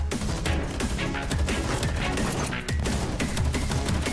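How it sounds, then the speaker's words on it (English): Fierce gunfire on a night mountainside, a dense, continuous fusillade of loud cracks and bursts that rattles on without a break and with no voices heard. "The sound of fierce gunfire tore through the silent night sky"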